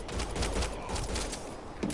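A short, faint spatter of gunfire in the video game Mass Effect Andromeda, a quick run of muffled shots under soft background noise.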